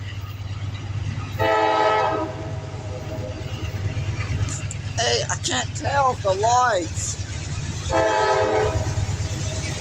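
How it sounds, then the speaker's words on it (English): A grain train's horn blares in two long, loud blasts with a low rumble of passing railcars throughout, and someone speaks briefly between the blasts. "think it's a grain train"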